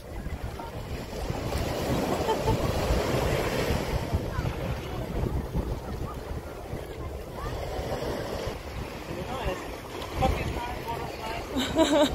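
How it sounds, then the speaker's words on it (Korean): Waves washing ashore at Marina Beach in Dubai, a steady broad rush of surf mixed with heavy wind buffeting the microphone, continuous and fairly loud throughout. "여기가 두바이 비치예요. 마리나 비치."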